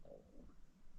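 A stomach rumbles in a quiet room, a faint, low gurgling growl lasting about a second, close and alone.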